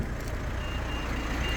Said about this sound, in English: So that's just beeping to let me know that the car is still running